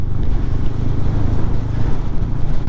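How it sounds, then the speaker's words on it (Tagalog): Strong wind roars and buffets steadily, a dense low rumble with gusty surges throughout, no voices. "grabe hangin"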